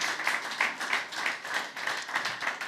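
A church congregation claps and applauds steadily, a dense wash of many hands in loose rhythmic surges, fairly close and without speech over it.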